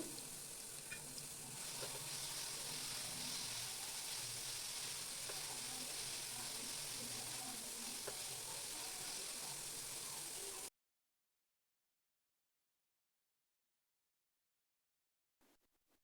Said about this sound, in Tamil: கட் பண்ணின பழத்தை போட்டு மீடியம் ஃப்ளேம்லேயே மசிகிற அளவுக்கு நல்லா வதக்கிக்கலாம்.